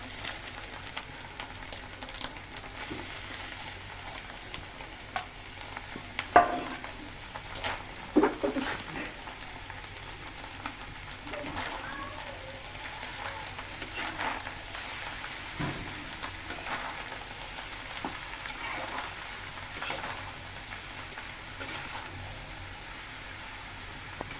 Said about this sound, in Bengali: ভালো করে ভেজে এখন দিয়ে দিবে শাপলা